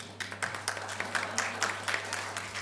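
Audience applause at a panel event, a brief patter of many hands clapping steadily at moderate volume.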